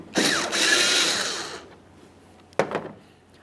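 Phillips head screws being backed out of a 1999-2006 Chevrolet Silverado 1500 taillight with a power driver: a sustained buzzing whir for about a second and a half, then a short second burst, close and moderately loud.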